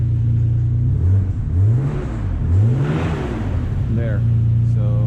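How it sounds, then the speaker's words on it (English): A Nissan Skyline R32 GTR engine with a knocking fault revs up and down in loud, close swells, its pitch rising and falling in repeated sweeps. "the second I start revving,"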